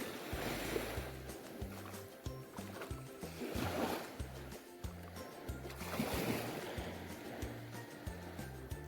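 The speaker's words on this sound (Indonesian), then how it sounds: "mendengar suara riuh ombak di sini" Ocean waves wash in and break on Huntete Beach, Tomia Island, Wakatobi, in slow, repeating surges, a rushing hiss rising and fading over a low steady rumble.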